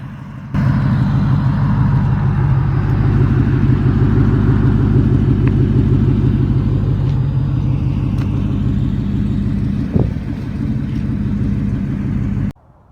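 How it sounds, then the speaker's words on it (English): A 1997 Ford Mustang GT with a newly installed engine idles close by, a steady, loud, low rumbling throb that starts abruptly, holds evenly with one brief knock near the end, then cuts off. "see the car running here by itself"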